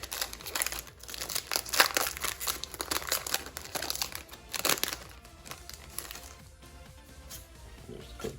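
A Pokémon Fusion Strike card pack wrapper is torn open and crinkled, with close, loud crackling and tearing bursts over the first five seconds, then softer rustling of foil.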